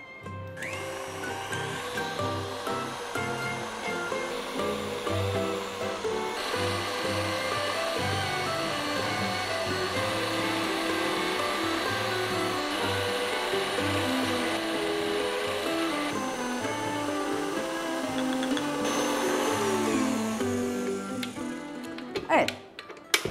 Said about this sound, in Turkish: tam olarak karıştığından emin olduğum anda mikseri durdurdum